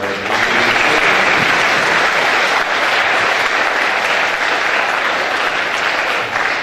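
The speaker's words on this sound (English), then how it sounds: "So a big round of applause for our" Sustained applause from a school crowd at the opening ceremony of a high school games event, honouring educational assistants; dense, steady clapping that fills the whole stretch without speech.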